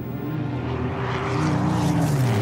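A Spitfire fighter aircraft drones past with a rough propeller engine roar, steady and fairly loud, its pitch sliding slightly as it moves.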